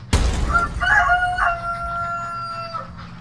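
Chickens clucking and a rooster crowing close by in a VR chicken stampede video, with sustained squawking calls overlapping for a few seconds.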